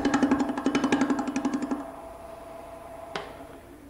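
A wood lathe turns a furniture leg. Close, rhythmic chattering cuts run for about two seconds, then the lathe hums on quietly, with one brief tap near the end.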